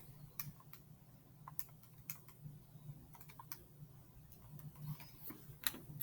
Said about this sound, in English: Type that in your calculator.